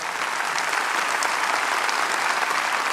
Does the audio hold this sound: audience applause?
yes